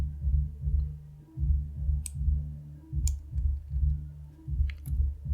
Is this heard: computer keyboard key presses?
yes